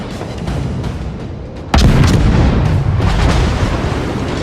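Naval guns boom in World of Warships, a muffled low rumble followed by a sudden heavy salvo and continuing blasts, loud and dense.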